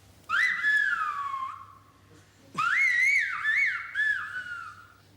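A Spanish phrase is whistled in two clear, loud gliding bursts with rising and falling pitch, separated by a short pause, with no talk over it.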